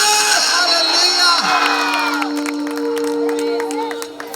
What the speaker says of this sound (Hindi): जोर से ताली बजाओ हालेलुया